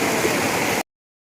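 Steady, dense roar of a natural waterfall at Mannumkulam, Puzhakkattiri in Malappuram, broadband rushing water heard close and loud without voices, cutting off abruptly after under a second.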